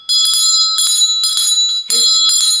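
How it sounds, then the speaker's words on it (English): A struck bell rings repeatedly in a steady rhythm, each bright metallic strike sustaining a clear high tone into the next, close and loud, used in a candle-lit prayer ritual; no voices. "hit the bell"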